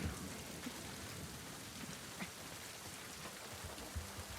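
Constant soft rainfall patters across the scene in the game Grounded, a dense hiss of drops with occasional heavier splats, faint and steady throughout with no voices.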